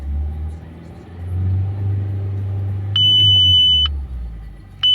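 An Audi A6 2.0 FSI engine, showing an oil-pressure warning, revs up steadily from idle and holds a raised drone while a high electronic warning beep sounds over it, then drops back.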